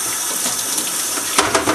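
Cold tap water runs steadily over home brewing equipment being rinsed, a continuous splashing hiss close by with a couple of brief louder splashes near the end.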